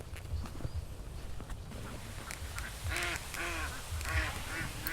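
Ducks being herded home beside a flooded river quack in a loud burst of overlapping calls near the end, over a low rumble and faint shuffling.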